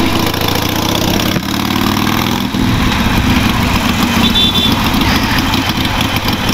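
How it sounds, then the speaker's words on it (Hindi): Harley-Davidson Iron 883 cruiser with an aftermarket exhaust, its engine rumbling loud and steady throughout, a deep continuous throb with a brief dip partway through and no talk. "क्योंकि जो इसमें एग्जॉस्ट इंस्टॉल कर रखे भाई साहब बहुत ही अल्टीमेट साउंड आता है।"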